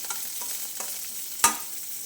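Garlic fries in hot oil, sizzling steadily with a soft crackling hiss, broken by a few light stirring scrapes and one sharper clink of a utensil.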